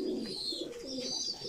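Pigeons coo softly in a low, throaty murmur that rolls continuously through the short moment, faint and close, with no voices over it.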